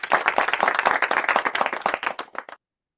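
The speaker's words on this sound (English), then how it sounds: "Let's give him my AY clap." An audience claps together, a dense burst of applause from a crowd at an entrepreneurs' assembly, steady and loud before cutting off abruptly after about two and a half seconds.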